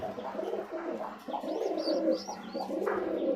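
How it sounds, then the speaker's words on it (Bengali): A pair of Rajshahi yellow-eyed jag pigeons coo in low, throaty, rolling bursts close by. The cooing runs almost continuously, with a few brief higher chirps above it. "এই হচ্ছে রাজশাহীর হলুদ চোখের জাগ এক জোড়া কবুতর"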